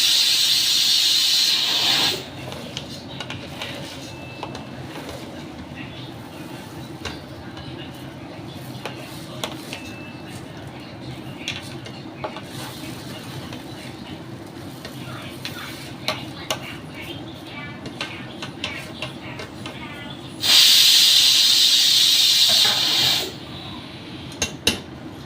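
Rice fries and gets stirred into spiced masala in a pot over a low flame for mutton pulao, a soft steady sizzle with spoon scrapes against the pot, bracketed by louder bursts of hissing near the start and late on.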